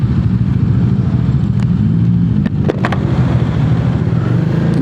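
A motorcycle engine runs steadily and loudly up close, a constant low drone with a few brief clicks and no noticeable revving.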